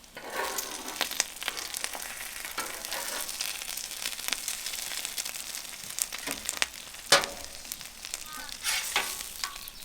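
Bacon and eggs sizzle steadily on a PitBoss flat top griddle turned down to low, a continuous close frying crackle broken by occasional scraping and crinkling taps.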